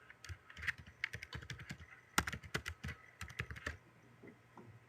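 Fingers type on a computer keyboard in quick, uneven bursts of close, quiet clicks with short pauses between them and no voices.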